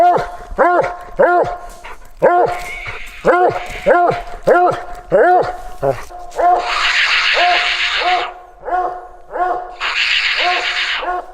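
Coon hunting hounds searching for a raccoon at night, repeated loud baying barks in a steady rhythmic run, then bursts of higher yipping and whining barks, with someone talking intermittently between them.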